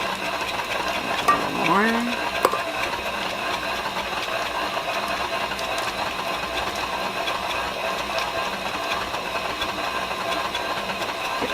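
Electric mixer running on low while beating cheesecake filling for a creamsicle cheesecake pie, a steady buzzing whir that continues throughout with brief speech over it.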